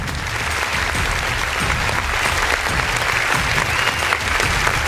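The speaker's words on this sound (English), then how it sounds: "please give a round of applause." An audience at an urban sherpa meeting applauding, loud dense clapping from a large crowd held steady throughout without a break.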